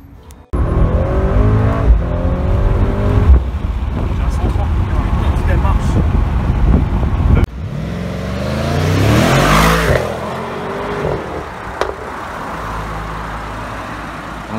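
A car engine revs and accelerates loudly, with a packed, lively car carrying five people; the engine roar rises and falls over several seconds, with people talking under and over it.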